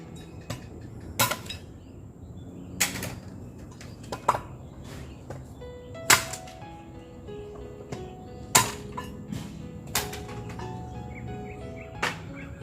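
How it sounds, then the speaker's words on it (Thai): Sharp, widely spaced chops of a knife or cleaver cutting a pork leg apart from its meat, several single cracking knocks at irregular intervals against a quiet outdoor evening background with faint bird chirps. "เพื่อนสงสัยว่าทำไมเวลาทำคลิปมีเสียง ป๊อกแป๊กป๊อกแป๊กนี่ครับ แม่กำลังตัดแยกท่ออยู่ท่อต่อกับเนื้อตรงออกจากกันนะครับ"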